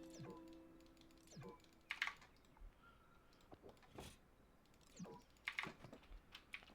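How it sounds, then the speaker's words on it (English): Mouse clicks and number key presses on a computer keyboard while playing Palia, sounding as scattered light taps and clicks in small clusters over a quiet background, with no talking. "I'm just going to be clicking a lot and then pressing the number key to get it to place."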